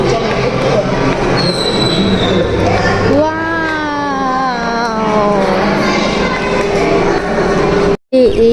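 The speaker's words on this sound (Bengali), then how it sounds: "এই ট্রেনটা" A ride train at Science City in Kolkata runs along its rails with a loud rumble, and long metallic wheel squeals rise and bend over it, ending in a sudden cutoff.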